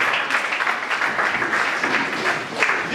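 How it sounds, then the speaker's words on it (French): A church congregation applauding together during a Sunday worship service, a dense, steady wash of many hands clapping that holds at an even level for the whole stretch with no voices standing out. "Acclame puissamment cette parole."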